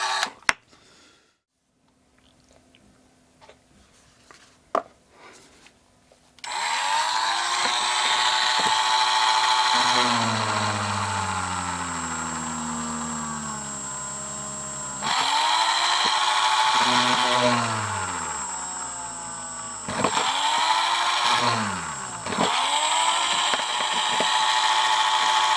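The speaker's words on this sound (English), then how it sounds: "we've got 4 holes drilled in the top, and now we will move over to the holes for the pickups" A power drill bores pickup holes in a DJH G5 guitar body, whining at a steady high pitch in long sustained runs with pitch sweeps as it spins up and slows, after a quiet start.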